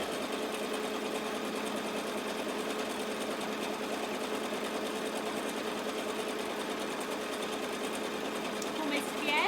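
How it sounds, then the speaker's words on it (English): Sewing machine stitching a tote bag, a steady fast mechanical whir running continuously throughout at close range, with a brief change near the end. "I'm just going to do a back stitch to finish off"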